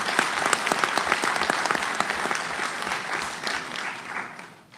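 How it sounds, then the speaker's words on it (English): Crowd applause at a Grenada Diaspora Homecoming gathering, a thick burst of many hands clapping that holds steady and then gradually fades away toward the end. "Give yourselves a round of applause for making this happen."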